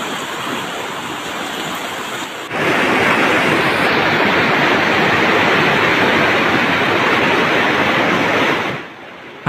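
Floodwater surging after the embankments of the Wulan and Jeratun rivers burst in Demak, a loud, steady rushing roar with no break, swelling louder partway through before easing at the end.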